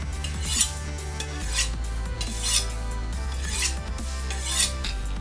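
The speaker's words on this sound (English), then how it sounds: "I have a sharpening iron right here. So we're going to find the rough edge and sharpen these knives up." Knives are sharpened on a sharpening iron, with close, rhythmic metallic scraping strokes repeating about once a second, loud and alone, with no talking.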